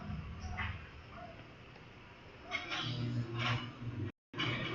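A cat meows in the Minecraft video game: a few short, fairly quiet in-game meows spaced over a low background hum, with a brief dropout near the end.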